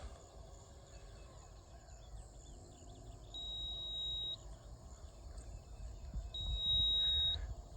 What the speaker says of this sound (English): but it's beeping.